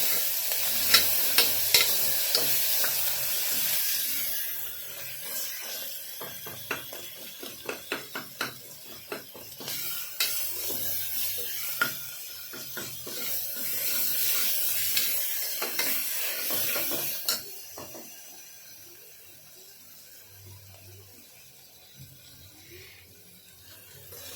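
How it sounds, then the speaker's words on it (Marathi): A ground paste of onion, coconut, ginger and garlic roasts in a pan for chicken gravy. Rhythmic spoon scrapes and clicks ride over a constant sizzle, then the sound eases and quiets toward the end. "आता हे वाटण आपण त्याच्यात टाकूया बघू शकता आपण वाटण आता हे चांगलं भाजून घ्यायचं आहे"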